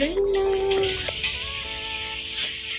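Food sizzles and fries in a pan while being stirred in a home kitchen, with steady hiss, occasional utensil scrapes and clinks, and a sustained tone near the start.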